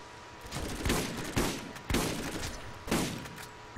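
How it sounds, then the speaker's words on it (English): Bursts of machine-gun fire from a quest reward gun in Borderlands, four short volleys spaced about half a second to a second apart, loud and close over a steady game background hum, with no talking. "This machine gun we got from that quest is actually nice."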